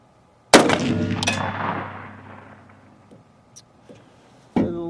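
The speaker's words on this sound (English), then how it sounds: "It's a little different shooting these coats because it's so cold out here, so I'll find out where it hits." A .243 coyote rifle fired outdoors in cold weather while sighting in a thermal scope: a sharp, loud shot with a long ringing decay, a second report soon after, a few faint knocks, then another loud shot at the end.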